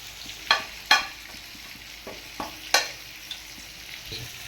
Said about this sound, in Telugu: ఇది పెద్ద మొగ్గ దాల్చిన చెక్క యాలిక్కాయ వేస్తున్నాను సాజీర కొంచెం లైట్గా ఫ్రై చేస్తున్నాం